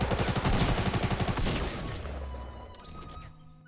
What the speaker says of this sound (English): the TAC shotgun takes no skill.